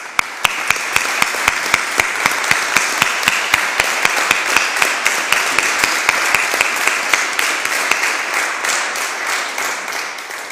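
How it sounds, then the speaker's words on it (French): Audience at a municipal council meeting applauds steadily for about ten seconds, a dense, even wash of many hands clapping with a few sharper claps standing out, no voices on top. "Je vous demande de les applaudir."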